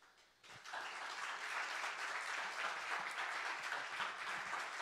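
After a brief quiet moment, a church congregation at a fasting service breaks into sustained applause, a steady, dense patter of many hands clapping that holds at even loudness with no speech over it.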